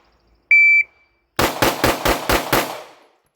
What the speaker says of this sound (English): with the standard Glock shooting fast